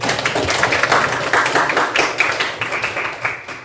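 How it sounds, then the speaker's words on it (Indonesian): A class group gives a short round of applause, steady clapping from many hands for a few seconds in an indoor classroom, with no talking over it. "Kita beri aplaus dulu sedikit."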